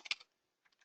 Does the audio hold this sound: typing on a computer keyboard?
yes